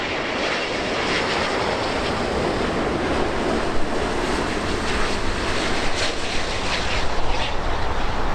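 A Lufthansa heavy airliner landing on runway 24 right at Los Angeles, a broad, loud roar of jet engines with wind rush, steady and close, with no voices.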